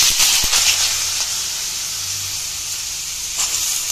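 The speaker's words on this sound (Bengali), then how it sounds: "তো এখন আলুটা আমি দিয়ে দেবো তেলে।" Cut potatoes dropped into hot oil in a home kitchen set up a steady, loud hiss and sizzle that runs without a break, with a few soft clatters near the start.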